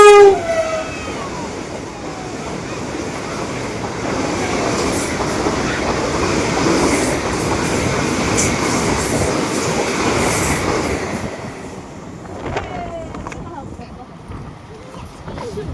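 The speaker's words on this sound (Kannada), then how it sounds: "ಈ ಟ್ರೈನ್ ಹೋಗೋ ಸೌಂಡ್ ಅಂದರೆ ಏನೋ ಒಂಥರ ಗಡಗಡಗಡ ಅಂದ್ಬಿಡುತ್ತೆ ಫುಲ್ಲು" A train rumbles past at close range at a railway station, a loud steady roar with clattering wheels that fades toward the end. A horn sounds briefly at the start.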